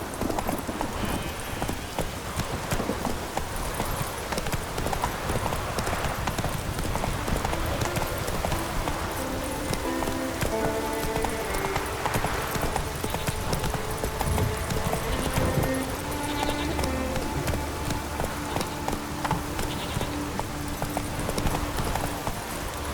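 A horse gallops through rain in The Witcher 3, its hoofbeats a steady, loud, continuous clip-clop from start to finish.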